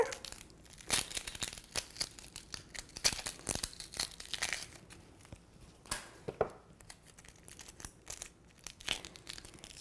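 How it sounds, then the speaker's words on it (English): An onion, already cut flat on two sides, has its papery outer layer peeled away in a string of quiet, close crinkling and tearing crackles at an irregular pace, with no talking. "Go in and remove the first outer layer."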